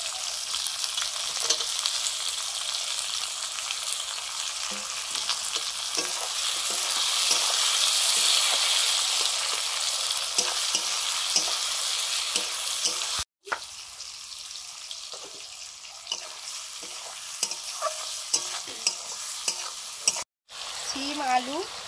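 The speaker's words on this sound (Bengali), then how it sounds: "এবার দিচ্ছি পেঁয়াজ কুচি।" Chopped onion sizzles loudly in a pan of hot oil in a village kitchen, with a constant frying hiss and repeated scraping and stirring taps throughout. Two brief dropouts cut the sound.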